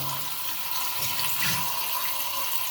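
Tap water runs steadily over washed chicken in a kitchen sink as it is rinsed out before draining, a continuous close splashing wash with no talking.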